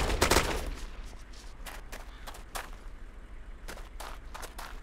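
Gunfire in the retro video game Wasteland: a burst of sharp shots at the start, then scattered lighter cracks and snaps at moderate level over a steady low hum, with no talking.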